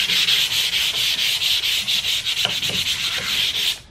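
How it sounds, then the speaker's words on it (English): Hand sanding with 120 grit sandpaper, scuffing the gloss off a piece of furniture before painting: steady back-and-forth rubbing strokes in a close, continuous rasp with no talk. "So, scuff sand using 120 grit,"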